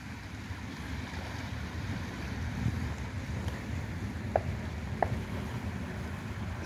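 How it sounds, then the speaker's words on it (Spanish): Water at a seaside camping spot stirs and laps as the tide rises, a steady low wash mixed with wind rumble. A couple of faint knocks stand out, and no one speaks. "Bueno, se empezó a mover el agua."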